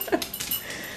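A puppy lets out a few short, high whimpers and yips close by, brief and soft.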